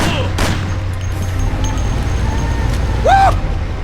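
Gunfire rattles during a car chase in Mafia: The City of Lost Heaven on PC, sharp shots over a low engine rumble, with a voice briefly heard.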